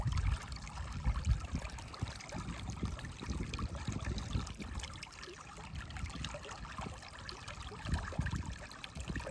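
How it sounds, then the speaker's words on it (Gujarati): Water runs along a small channel into a village pond where branches are tied across the flow, a faint, steady trickling with no voices. "તો મિત્રો તળાવમાં સીધું પાણી આવે છે। જો આ નાળામાં આવે છે"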